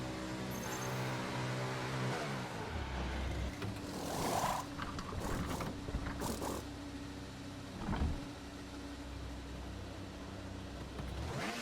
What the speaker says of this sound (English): Into the pits we come to box for a new front wing, as well as some new hard set of tyres.